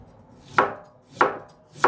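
A kitchen knife chops food on a cutting board, giving three crisp, evenly spaced strikes close up with quiet pauses between them.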